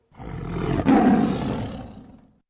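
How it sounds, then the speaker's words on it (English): A tiger's long roar used as a cinematic sound effect, one loud, deep, sustained growling blast that swells quickly, holds for about two seconds, then fades out on its own. "This is something of a long roar, longer than the quick and short leopard or lion sounds I talked about before"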